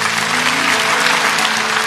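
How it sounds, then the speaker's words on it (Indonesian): A church congregation applauds with dense, steady clapping from a large crowd, filling the room evenly for a couple of seconds with no speech over it. "Kasih tepuk tangan untuk Tuhan Yesus."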